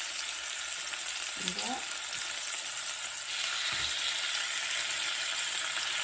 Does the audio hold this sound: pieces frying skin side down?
yes